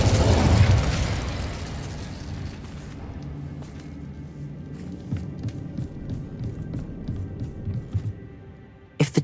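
An Incendio fire spell from Hogwarts Legacy bursts with a loud, deep boom at the start, then fades into a low rumbling tail scattered with small crackles and pops.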